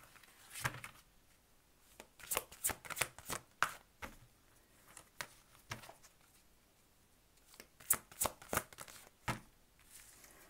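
Tarot cards shuffled and drawn, bursts of crisp riffling and slapping card noise in two clusters with quiet pauses between, close and fairly soft.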